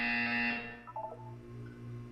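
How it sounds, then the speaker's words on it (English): Buzzer in the video game Portal 2, a loud sustained electronic tone that cuts off after about half a second, followed by a short burst of beeping tones over a low steady hum. "You will hear a buzzer."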